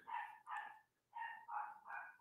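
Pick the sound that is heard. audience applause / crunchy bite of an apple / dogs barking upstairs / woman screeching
dogs barking upstairs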